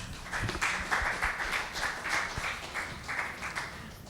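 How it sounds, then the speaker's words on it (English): A conference audience gives a round of applause for a speaker, moderately loud and fairly quiet overall, with a rhythmic pattern of clustered claps repeating across the few seconds. "Let's give her a round of applause."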